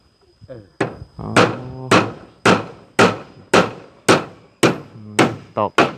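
Repeated hammer blows strike nails into wood, about ten sharp, ringing hits in a steady rhythm, close and loud.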